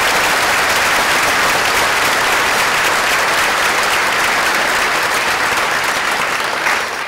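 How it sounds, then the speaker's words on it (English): Audience at a 2018 class graduation ceremony gives a loud, sustained round of applause, dense and continuous throughout with no talk over it. "They deserve a big round of applause."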